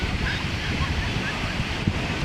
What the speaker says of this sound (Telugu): ఇక్కడ అలలు అనేవి చూసి మొత్తం లోపలికి లాక్కొని వెళ్ళిపోతాయి